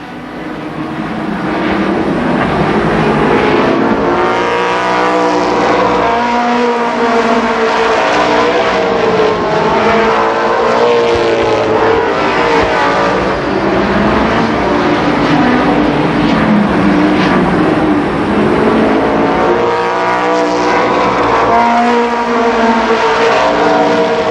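Race cars roar around Columbus Motor Speedway during a 1991 main event, a loud continuous engine drone with rising and falling pitch as the pack passes, steady throughout with no talk.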